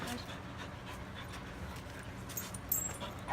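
A dog pants and whimpers softly at close range, quick breathy puffs with faint thin whines, set against low background noise and a brief louder bump at the end.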